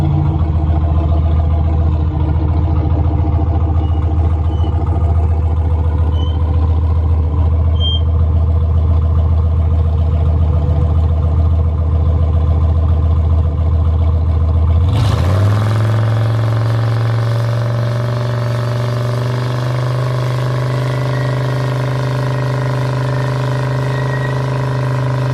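Turbocharged LS V8 swapped into a GMC Envoy runs steadily with a loud, close, deep idle drone, then a sudden shift halfway through to a higher, steady engine hum, with no talk.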